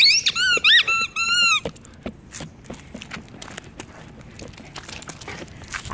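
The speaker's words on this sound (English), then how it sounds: "Hey for squeaky balls." A squeaky dog toy ball squeals in a quick run of rubbery squeaks up close, then falls quiet to scattered soft thumps and pawing sounds.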